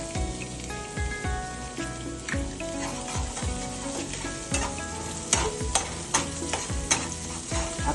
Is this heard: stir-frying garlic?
yes